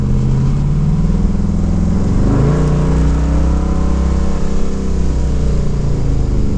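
An LS-swapped third-generation car accelerating on a test drive, its engine droning steadily from inside the cabin, the revs climbing, dipping briefly, then holding a sustained loud hum.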